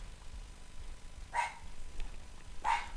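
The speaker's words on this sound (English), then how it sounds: "my dog is barking for some reason" A pet dog barks twice, short sharp yips spaced about a second apart, slightly distant indoors over a low background hum.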